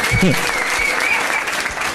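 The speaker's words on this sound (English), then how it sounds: "Come on, give them a round of applause as well." Pub trivia quiz crowd at The Grain & Hop gives a team a round of applause, a close, continuous patter of clapping with voices talking over it.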